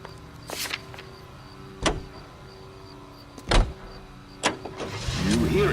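A car in the video game L.A. Noire, with several distinct mechanical thumps and clunks followed by a swelling engine rumble at the end, loud and close.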